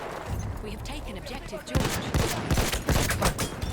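Battlefield 1 gunfire erupts in rapid bursts, starting sparse and then turning into dense overlapping shots, with a voice talking under the action early on.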